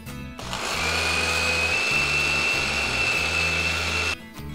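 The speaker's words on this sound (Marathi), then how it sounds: "हे पोहे जे आपण भाजून घेतलेले आहेत हे मिक्सरच्या भांड्यामध्ये काढून दळून घ्यायचे." A kitchen mixer grinder runs grinding roasted poha into powder, a loud steady motor whine with a chopping, pulsing rattle, starting abruptly and cutting off near the end.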